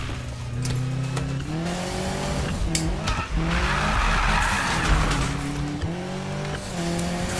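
A BMW M3 E30 in the video game Need for Speed (2015/2016) skids with sustained tire squeal over a steady, revving engine drone that rises and falls through the turns, loud and continuous throughout.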